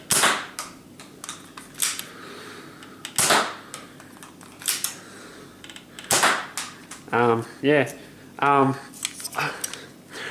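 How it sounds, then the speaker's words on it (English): A Nerf Rebelle Secrets and Spies Messenger toy blaster fires darts in a series of sharp pops, several close shots spread over the clip, with brief plastic priming clicks and a few short voice sounds between them. "you load the darts into all 3 barrels, pull the prime back, and just pull the trigger"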